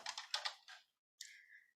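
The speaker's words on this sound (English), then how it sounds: "Press enter on your keyboard, locate the vendor." Keys tapped on a computer keyboard while entering a purchase order in office software: a close cluster of quick clicks, a short pause, then a brief sustained tone.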